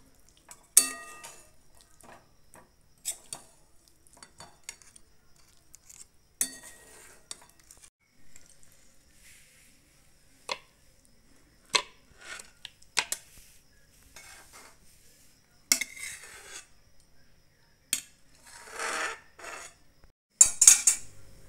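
A spoon stirs Kashmiri alur dom in a pan with ground spices and chopped coriander, sounding as sparse, close scrapes and clinks of metal on metal, spaced out between quiet gaps and a little louder near the end.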